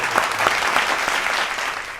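Audience applause at a Hindi poetry recital celebrating Independence Day, a dense, steady wash of many clapping hands filling the whole stretch at fairly close range, with no voices over it.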